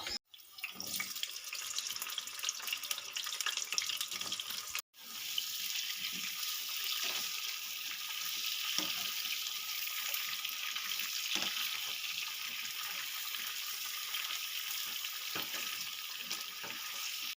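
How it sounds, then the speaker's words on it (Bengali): Pointed gourd (potol) pieces fry in hot mustard oil with a steady, bright sizzling hiss. The hiss cuts out abruptly for a moment, then resumes at the same strength and runs on evenly. "এবার আমি পটলগুলো লাল লাল করে ভেজে নেব"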